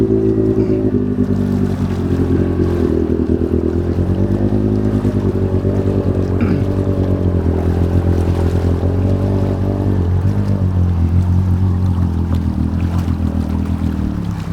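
A heavy Yamaha YXZ side-by-side engine drones and labors steadily through deep water, with sloshing water churning around it throughout and no voices.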